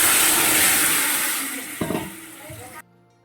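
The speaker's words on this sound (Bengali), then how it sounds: "সিদ্ধ করে রাখা ডালগুলো দিয়ে দেবো" Boiled lentils tipped into a pan on a wood-fired clay stove give a brief wet splash and sizzle over a steady hissing fire, followed by a short thud; a faint voice is heard.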